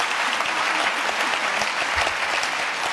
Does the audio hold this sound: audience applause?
yes